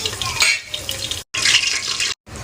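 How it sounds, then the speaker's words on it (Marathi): Whole spices dropped into hot oil for chicken biryani sizzle in a steady, close crackling hiss, broken by two brief silent gaps, with faint clinks of a utensil and no talking. "आता मी तेलामध्ये खडे मसाले टाकते."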